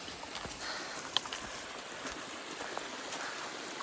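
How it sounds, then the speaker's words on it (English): A tiny waterfall at a stream crossing on the Pacific Crest Trail, giving a steady soft hiss of running water with faint splashes and drips, continuous and moderately distant. "it's like a tiny waterfall"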